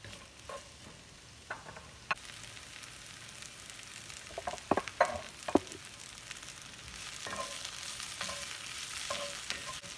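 Onions fry in oil in a pan with a quiet, steady sizzle broken by occasional clicks and utensil taps, which grows slightly fuller toward the end, and no one speaks.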